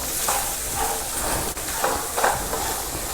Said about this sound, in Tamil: சுண்டைக்காயை தனியாக கூட வேக போடலாம், ஆனால் நான் கொஞ்சம் வதக்கிப்பேன்